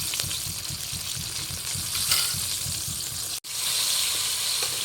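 Chicken pieces frying in hot oil for a spicy fried chicken lunch, giving a steady close sizzle and crackle throughout with a brief dropout near the end.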